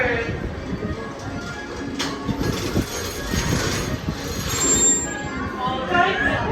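Walter, a 101-year-old steam locomotive at Magic Kingdom, rolls along with a steady rumbling clatter of wheels and carriages, fairly close and continuous, with faint voices in the background.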